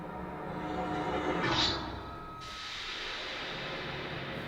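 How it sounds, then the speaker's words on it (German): Two riser sound effects from a song production, the first a rising noise sweep swelling to a peak before cutting off, the second a bright sustained sweep entering and holding over a dense musical bed, no voices. "Dann haben wir noch zwei Riser."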